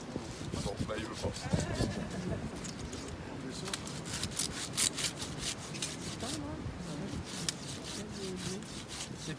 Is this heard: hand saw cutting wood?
yes